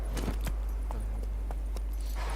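Horse hooves clip-clopping in a steady walking rhythm in The Witcher 3: Wild Hunt, fairly close and clear over a constant low rumble, with no talking.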